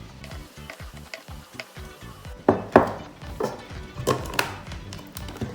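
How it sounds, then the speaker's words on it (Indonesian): Dory fish fillet with shallots and garlic being ground in a food processor or chopper for Bandung batagor, giving a steady rattling, whirring churn with repeated ticking knocks and a louder burst of grinding midway, no voices. "Kemudian saya akan haluskan kembali sampai benar-benar halus"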